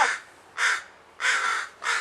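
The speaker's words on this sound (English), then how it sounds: "And there was that crow again." A crow calls three or four times in a backyard, each harsh caw distinct and fairly close, spaced by short pauses with no talking.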